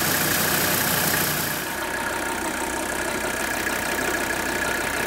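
A diesel engine idles steadily while running on diesel purge cleaner drawn into its injection pump, a continuous loud, even rumble with no talking.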